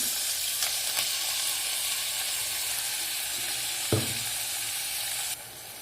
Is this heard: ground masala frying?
yes